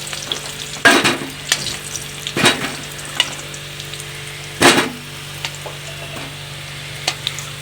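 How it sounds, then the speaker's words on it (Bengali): Potatoes fry in a pan with a constant soft sizzle, broken by several sharp scraping knocks as a spatula stirs them at irregular intervals. "আলুটা ভালো করে লাল লাল করে ভেজে নেবে"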